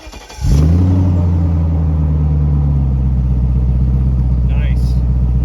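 A 2000 BMW 740i with its muffler deleted cranks and catches, then settles into a loud, steady, deep rumbling idle with a slight rise, engine close and alone throughout.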